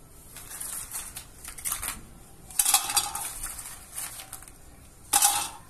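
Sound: pine nuts poured into pressure cooker

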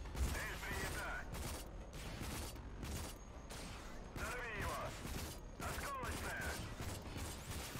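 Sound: gunfire shooting at a shield in video game Rage

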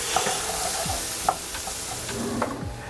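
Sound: vegetables frying in pan for coconut curry

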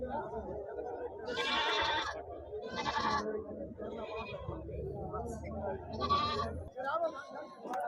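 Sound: Nellore Jodipi sheep bleating at a livestock market

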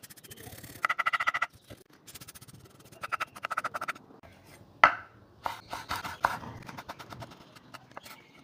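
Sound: mashing eggs with a folded net grocery bag

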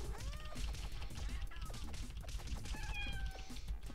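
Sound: cat enemy meowing in Castle Crashers video game

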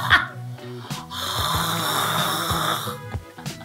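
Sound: person imitating snoring

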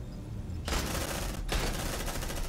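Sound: gunfire in Aliens: Dark Descent video game

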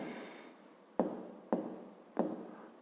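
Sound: writing on paper

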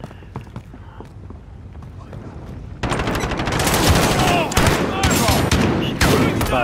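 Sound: gunfire in Call of Duty Modern Warfare, video game

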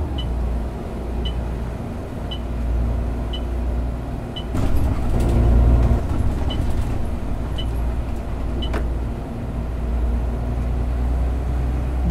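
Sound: Citybus 400 ZF bus driving in OMSI 2 video game

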